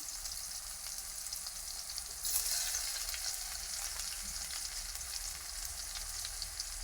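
Chopped onion and garlic hit hot oil with tilapia fish and chili in a Bengali spiced pan, and a steady sizzle jumps sharply louder as they drop in, then settles into a dense, even crackle.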